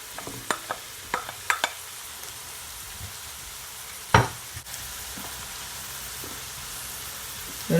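Coconut rice being added to a frying pan and stirred in while seasoned Jamaican fried rice cooks. Soft clinks and scrapes come first, then a sharp thump midway and a steady low sizzle underneath, with no talking.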